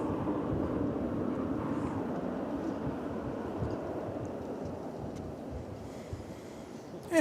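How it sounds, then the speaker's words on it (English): An American Airlines Boeing 737-800 jet airliner passes as a broad, steady roar heard from a distance at an airport. The rumble holds at an even level throughout, with no voices over it. "That was American Flight 2772, 737-800"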